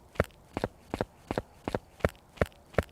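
Moroi ghost footsteps during a hunt in the horror game Phasmophobia, seven or eight evenly spaced, fairly quick thuds with a slight double-tap quality, moderately close and otherwise quiet.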